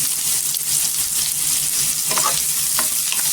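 Chopped onion and coarsely crushed garlic sauté in a pan for a potato curry, giving a loud, continuous close-up sizzle with a couple of brief stirring clinks near the end, with no voices.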